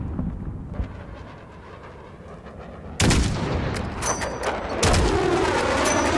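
Sharp sniper gunfire bursts in Call of Duty: Modern Warfare (2019), close and loud, with repeated rapid shots after a quieter stretch; no speech.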